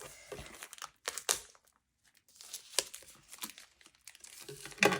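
Packaging of a Stampin' Up advent calendar kit being opened, with close crinkling and tearing of plastic and paper in short bursts separated by quiet gaps.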